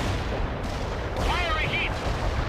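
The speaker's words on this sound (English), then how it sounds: "Heavy armor firing at the enemy." Heavy armor tanks firing in the battle game World in Conflict, a dense, continuous rumble of distant cannon and gunfire booms with combat noise throughout and a brief whistling sweep midway.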